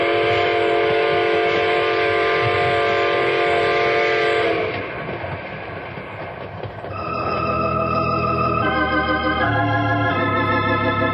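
A runaway train blows its whistle in long, loud, sustained chords that drop out briefly and then resume as rail noise rumbles beneath.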